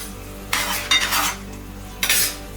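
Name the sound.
soy chunks (meal maker) added to simmering sauce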